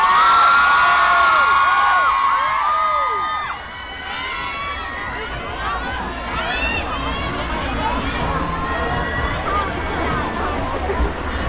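A large crowd at a pop concert at a Bangkok expo screams and shrieks excitedly, high-pitched cries overlapping loudly at first, then settling into a sustained cheering din.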